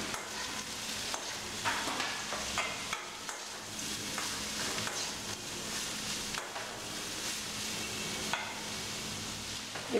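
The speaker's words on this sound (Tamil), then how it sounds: "இது பீட்ரூட் நல்லா வதங்குற வரைக்கும் கொஞ்சம் நேரத்துக்கு கிண்டி விடணும்" Beetroot stirred and sautéed in a pan on a simmer, a continuous quiet sizzle with repeated scraping stir strokes throughout, close and even.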